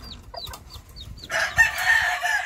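Chickens cluck and chirp in short bursts, then a louder, sustained hen vocalization takes over, close by with no talking; a hen with newly hatched chicks.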